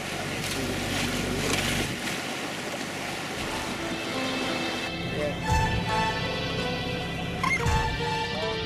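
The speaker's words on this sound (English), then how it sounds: "Towards evening, the wind eased, so we motor-sailed into the spectacular sunset." Sailboat motor-sailing on the open sea between Fiji and New Zealand, a steady engine drone under rushing water and wind, continuous and fairly close, with a voice talking over it.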